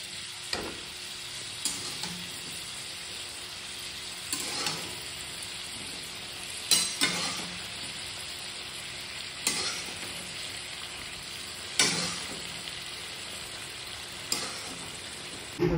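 Cauliflower and potato frying in a pan just used for shrimp: a continuous soft sizzle close by, broken every couple of seconds by brief scraping stirs of a utensil, with no voices.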